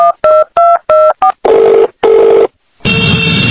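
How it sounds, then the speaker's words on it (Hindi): A telephone keypad dialed in a quick run of five separate tones, then two longer beeps, a short gap and a continuous ringing or line tone, all loud and close. "ले फोन और लगा दे कॉल उसको"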